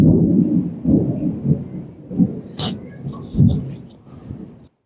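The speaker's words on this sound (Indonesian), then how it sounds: "cuaca sudah bergemuruh, hampir hujan, bakalan berisik dan rintik-rintik" Low rolling thunder rumbles in repeated swells, with a brief sharp crackle partway through and faint higher rustling near the end.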